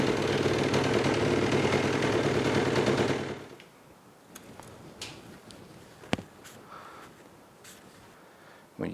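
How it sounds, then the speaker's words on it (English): A Yamaha YFZ450R ATV engine idles loud and steady for about three seconds, then cuts out, leaving faint scattered clicks and low background noise. "crank it up, let it idle for a couple of minutes"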